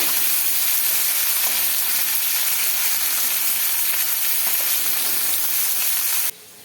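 Koi fish sizzling and frying in hot oil in a pan, a steady loud hiss that runs continuously, then drops abruptly to a quieter level near the end.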